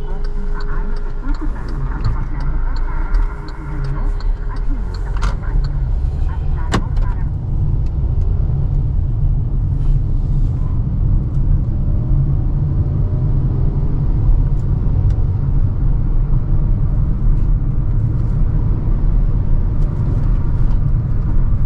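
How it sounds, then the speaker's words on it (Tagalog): 2023 Kia Stonic on the road, with a loud steady rumble of engine and tyres heard from inside the cabin, a few faint clicks early on, continuous throughout. "Okay, let's drive this Kia Stonic."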